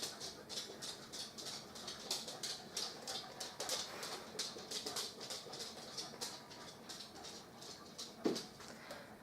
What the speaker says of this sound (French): Mon chien vient de sortir du balcon, de faire un tour dans le salon juste histoire de faire du bruit dans la vidéo